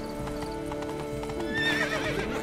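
A horse in The Witcher 3 trotting with steady clip-clop hoofbeats, then letting out a loud neigh near the end, close by.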